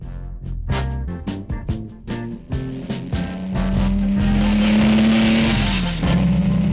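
A car engine revs in quick bursts and then holds a steady, loud drone as the vehicle drives, with a tire squeal or skid texture toward the end, heard alone without talk.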